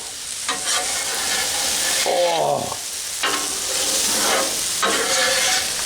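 Beef stir fry with rice and homemade sauce sizzling loudly and steadily on a Blackstone griddle, with a spatula scraping and tossing the food in several bursts.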